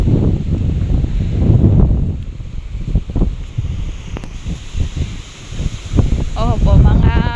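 Strong wind blowing across a seaside shore with huts, buffeting the microphone in loud gusts, with surf rumbling underneath and a few faint voices mixed in.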